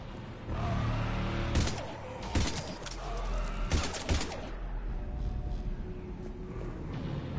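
Gunfire in the video game Mass Effect 3: a few clusters of sharp, loud shots over a constant rumbling combat background.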